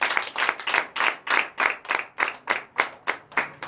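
A church congregation claps in a steady, fast rhythm, about three claps per second, loud and sustained throughout with no talk.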